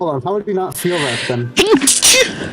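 A sharp sneeze bursts out in the middle of a lively conversation, loud and close, with people talking before and after it.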